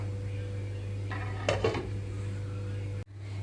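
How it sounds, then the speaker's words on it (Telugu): A metal lid set onto a pot of tomato rasam on the stove, a couple of quick clanks close by over a steady low kitchen hum, followed by an abrupt cut. "కొంచెంగా కొత్తిమీర వేసి మూత పెట్టేస్తున్నాను నేను ఇక్కడ"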